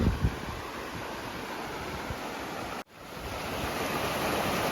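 Stream water flowing across a backpacking trail near Fortress Lake in Jasper National Park gives a steady broadband rush, close and loud, briefly cut out midway before returning.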